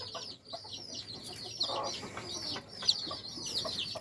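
Newly hatched chicks peep in rapid, high repeated calls while chickens cluck close by, a busy, continuous chorus with no talk.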